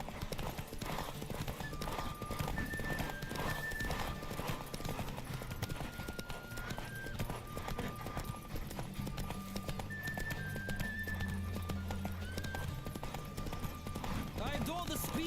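A horse galloping in The Witcher 3, quick rhythmic hoofbeats pounding nonstop under a layer of game music, with a neigh in the mix and speech heard alongside.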